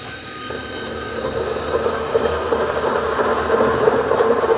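A phone scratch polishing machine runs with a steady, vibrating hum and rumble that gradually grows a little louder, continuous throughout with no talking.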